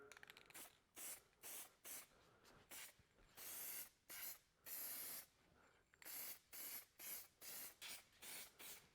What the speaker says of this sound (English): when I spray this on, so it tells me I'm on track